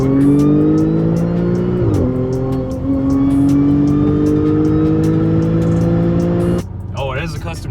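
Tuned 500+ HP Audi A6 with a dual pulley and a custom transmission tune, its engine revving hard through a gear, dipping at a shift and climbing again, loud and close, before a sudden drop near the end.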